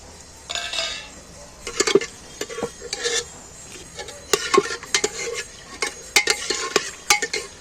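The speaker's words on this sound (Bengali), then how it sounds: "এইবার আমি এখানে যে গোটা মশলাগুলো রেখেছি মশলাগুলো তেলের মধ্যে দিয়ে দিচ্ছি" Whole spices frying in oil for a mutton dish, with a spoon scraping and clinking against the pot in irregular bursts over a soft sizzle, fairly close and without speech.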